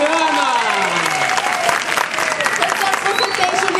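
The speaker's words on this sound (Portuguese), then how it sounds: "Palmas pra Juliana!" An audience at a literary festival talk in Paraty applauds for a young girl named Juliana: sustained, loud, close clapping for nearly four seconds, with a voice briefly heard over the start.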